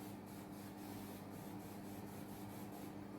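Alcohol at 70% sprayed inside a laminar airflow cabinet, a soft hissing spray over a steady mechanical hum, with faint repeated bursts.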